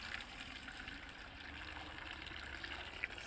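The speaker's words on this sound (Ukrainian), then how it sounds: "Я беру ось так гарячий кип'яток, наливаю у банку." Boiling water trickles into a glass jar in a steady, quiet stream, with a faint gurgle as the level rises.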